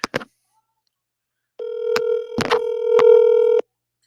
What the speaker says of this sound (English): let me call this agent back